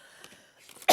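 A woman gives a single short, sharp cough at the very end, preceded by quiet room sound and faint breathy noises.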